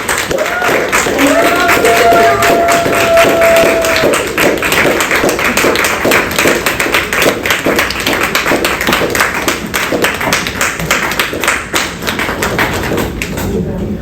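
An audience at a spiritual gathering with a guru in New York claps continuously, a dense patter of many hands with a brief sung or spoken tone early on, fading slightly toward the end.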